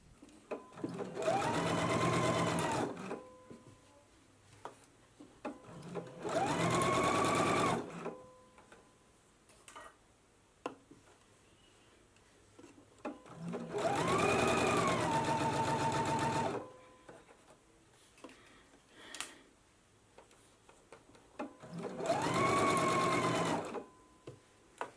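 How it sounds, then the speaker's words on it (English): A serger overlock machine finishes the seam of a sewn summer dress, running in four loud bursts of steady high-speed stitching separated by quiet pauses with faint handling noises. "then finish off my seam with my serger"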